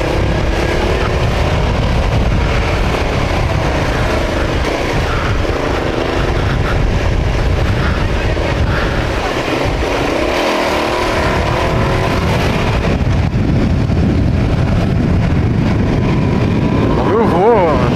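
Comet GTR 650 motorcycle riding at speed, a loud continuous engine drone with shifting pitch and heavy wind rush throughout, while a rider talks over it.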